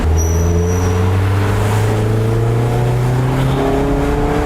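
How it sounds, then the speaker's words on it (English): Exhaust note of a 2019 Mazda MX-5 RF Club Edition while driving, a loud, close engine tone climbing steadily in pitch as the car accelerates through the rev range, with no talking. "The exhaust note of this 2019 sounds a little bit more aggressive than the 2018"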